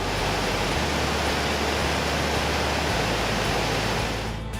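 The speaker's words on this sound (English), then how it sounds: "next to a beautiful mountain waterfall." Tangle Falls, a mountain waterfall beside the road in Jasper National Park, roars as a broad, steady rush of falling water, loud and close, filling the whole stretch without any voices.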